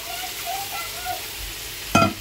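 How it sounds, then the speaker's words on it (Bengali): Prawn curry masala sizzles steadily in a pan, then hot water poured in near the end sets off a sudden loud burst of hissing, close up. "এবার এখানে আমি দিয়ে দেবো গরম জল।"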